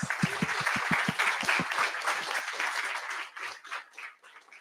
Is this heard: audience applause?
yes